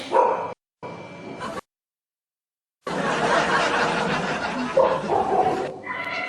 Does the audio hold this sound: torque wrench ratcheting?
no